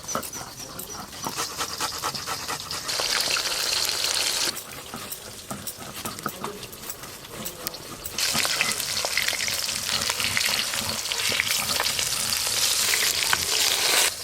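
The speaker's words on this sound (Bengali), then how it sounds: "কালিয়ার জন্য কাতলা মাছগুলো একটু ভালো করে লাল লাল করে ভেজে নেব" Pieces of katla fish frying in hot oil for a fish curry, a dense continuous sizzle and crackle that swells louder in the later half, with no talking.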